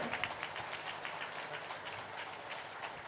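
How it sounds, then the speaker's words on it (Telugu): An audience claps together at the Patriji Dhyana Maha Yagam spiritual gathering after a motivational speech, a dense, steady patter of many hands that holds at a moderate level throughout. "ఇంకా గట్టిగా క్లాప్స్ ఇద్దాం, ఆపకూడదు."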